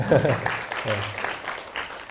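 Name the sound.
audience applause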